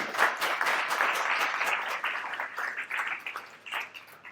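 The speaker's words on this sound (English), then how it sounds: "Big round of applause." An audience at a technical talk applauds steadily, then the clapping thins toward the end, moderately loud and alone.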